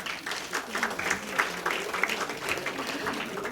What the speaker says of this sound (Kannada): ಅವರ ಸಾಧನೆಗೆ ನಿಮ್ಮಿಂದ ಜೋರಾದ ಚಪ್ಪಾಳೆಯನ್ನು ನಿರೀಕ್ಷಿಸುತ್ತೇನೆ